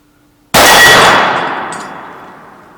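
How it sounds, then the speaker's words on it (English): A .44 Magnum revolver round, Smith & Wesson Model 29-2, strikes a steel gong target with one loud, sharp metallic clang that rings on and fades slowly over about two seconds. "I guess you could say I hit that gong."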